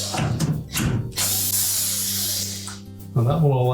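A power driver spins out 1/4 inch hex head screws from the upper plastic housing of a Whirlpool refrigerator, giving a few short whirring bursts followed by a longer steady run, with someone talking near the end.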